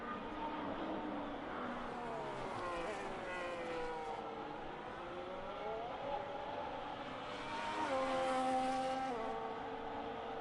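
F1 race cars in an F1 26 video game race in China drive out of their pit boxes, several high-pitched engines revving and shifting in overlapping rising and falling whines, steady and moderately loud.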